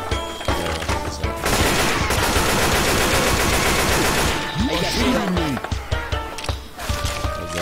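M16 rifle fire in Left 4 Dead 2 comes as scattered shots and then a long, dense, sustained automatic burst, loud and close, with a few more shots and game sounds afterward.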